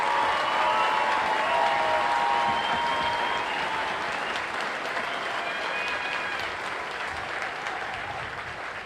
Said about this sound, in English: Please join me in a round of applause for the soldiers,